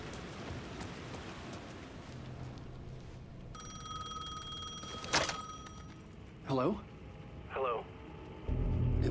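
A payphone rings in the rainy night of the Alan Wake 2 video game: steady rain patter, then a loud ringing burst followed by two shorter electronic trills.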